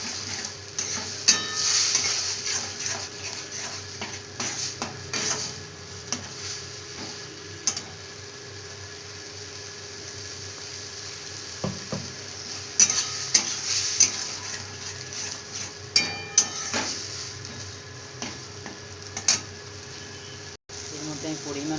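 Marinated spinach sautéed with spices in a pan, a continuous low sizzle punctuated by scraping and clattering stirs, with a faint steady hum throughout.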